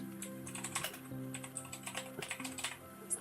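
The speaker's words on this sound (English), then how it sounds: "Every time I type something, it takes like 5 seconds before the typing actually shows up." Fingers typing on a computer keyboard up close, a quick irregular patter of sharp key clicks in short bursts over a faint steady tonal hum, with no talking.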